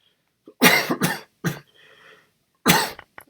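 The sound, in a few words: cough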